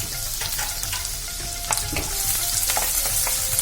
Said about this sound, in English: I have added some chopped onions and some chopped green chillies.